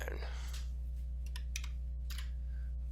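Computer keyboard keys pressed for a Control+D duplicate shortcut while 3D modeling an armor head: a few sharp, separate clicks spread over a few seconds, set against a steady low electrical hum in a quiet room.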